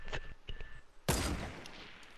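A short burst of video game gunfire cracks out near the middle, followed by a long, noisy rumbling tail, with lighter clicks and a faint tone before it.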